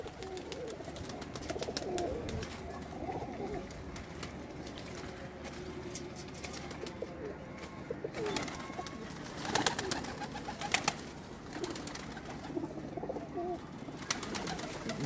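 Pigeons coo on a rooftop, a continuous layered cooing from several birds at close range, with scattered wingbeats or bumps and faint background noise.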